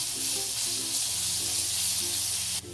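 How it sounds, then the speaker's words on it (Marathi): Curry leaves sautéing in hot oil in a pan, a continuous loud, close sizzle with a faint steady hum beneath, briefly dropping off at the very end, with no talk. "थोडासा कढीपत्ता टाकला आहे परतून घेऊ छान"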